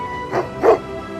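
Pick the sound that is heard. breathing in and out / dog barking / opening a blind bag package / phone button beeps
dog barking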